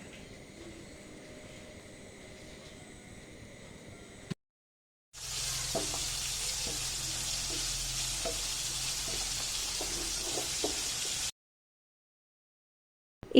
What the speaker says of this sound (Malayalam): എന്നിട്ട് നമ്മുടെ ഉള്ളി ഇട്ടിട്ട് നല്ല ട്രാൻസ്പെറൻ്റ് ആകുന്ന വരെ ഒന്ന് വഴറ്റി കൊടുക്കുക